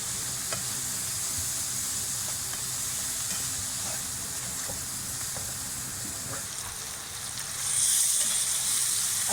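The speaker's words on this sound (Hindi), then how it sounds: "अब ये हमारी सब्जियां जो हैं फ्राई हो गई हैं अच्छे से" Vegetables frying in a pan for Chinese fried rice, a continuous loud sizzle with faint stirring scrapes that swells hotter near the end, no talking.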